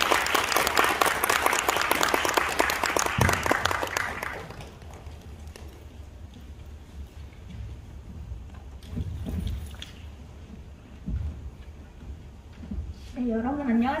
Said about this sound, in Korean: 크게 박수로 환영해 주시기 바랍니다.